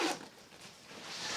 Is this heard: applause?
no